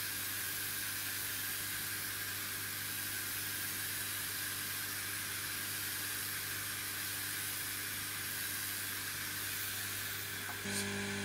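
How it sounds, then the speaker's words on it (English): Laser air assist pump forcing air through a brass nozzle on a standard black hose, a constant loud hissing rush with a low steady motor hum underneath, unchanging for the whole stretch. "Standard setup with the brass nozzle on the pump, standard black hose and air assist."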